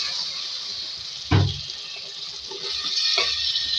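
A little water is poured into a pan of cooking chicken and potatoes for a Lahori chicken aloo curry, a steady close splashing hiss with a couple of brief clunks, running the whole moment without talk.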